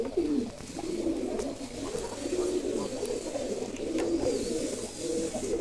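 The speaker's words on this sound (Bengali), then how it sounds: "এই যে এই দুইটা হলো গিরিজেল কবুতরের জোড়া।" Giriraj pigeons cooing, a pair of birds at a farm giving steady, rolling low coos that continue throughout, fairly close with faint background noise.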